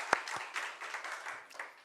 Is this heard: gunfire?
no